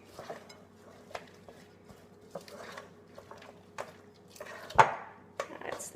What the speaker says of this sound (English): add just a little bit more of the oats and mix that up